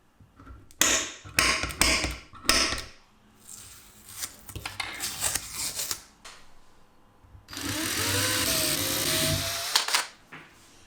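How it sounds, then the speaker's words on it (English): Small holes being drilled into the bottom of a portable Bluetooth speaker enclosure with a power drill: several short bursts, then one longer sustained whine, with quiet handling noise between. "drill small holes on the bottom"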